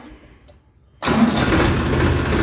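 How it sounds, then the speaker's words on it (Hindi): A tractor engine cranks and catches after a brief quiet moment, then settles into a loud, steady running rumble close by. "और स्टार्ट कर देता हूँ जी मैं एक बारी से ट्रैक्टर को"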